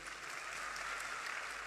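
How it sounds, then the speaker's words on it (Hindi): An audience at a Kanpur Dehat festival gives steady, dense applause for the district magistrate, a continuous wash of clapping from a crowd at moderate distance. "डीएम कानपुर देहात के ये हमारी नेहा जैन जी के लिए जोरदार तालियां प्लीज"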